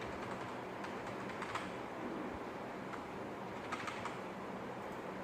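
A computer keyboard being typed on while entering text into a Microsoft Excel sheet, producing soft, steady clicking keystrokes with small bursts over a continuous low background hum, with no voices.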